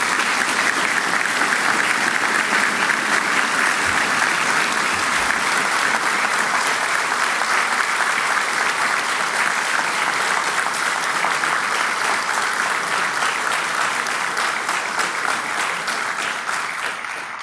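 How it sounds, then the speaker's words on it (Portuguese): Sustained applause from a crowd at a Brazilian government swearing-in ceremony, honoring the Armed Forces; steady, dense clapping holds at an even level throughout, fading only slightly at the very end. "E eu peço uma salva de palmas para eles,"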